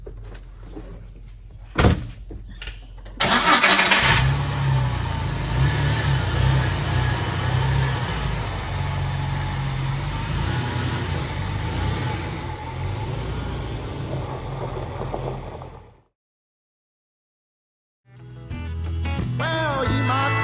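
A car door thuds shut, then a steady low engine rumble runs for about twelve seconds before cutting off; after a short silence, rumbling resumes.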